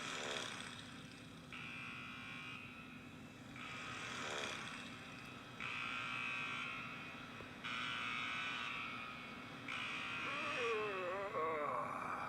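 An alarm buzzer sounds in repeated bursts about a second or two long, switching on and off in a regular pattern against steady background noise.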